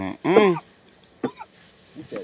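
A person coughs hard after smoking weed: one long raspy fit, then a sharp single cough and a couple of smaller throat-clearing bursts, loud and close in an otherwise quiet space.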